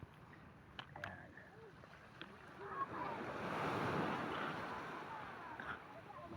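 Sea waves wash onto the shore at Dingalan, Aurora, a steady surf that swells into a louder rushing break midway, with wind buffeting the microphone.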